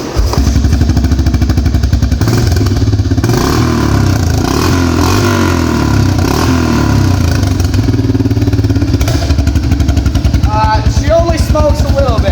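A pull-start motorcycle engine chugs into life and keeps running with a loud, rough, steady rumble close by for several seconds, sounding like a Harley.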